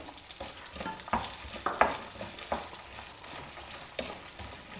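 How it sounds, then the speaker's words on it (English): Shallots and dals fry over a low flame in a pan, a quiet steady sizzle broken by a few soft stirring scrapes. "Stir everything together well."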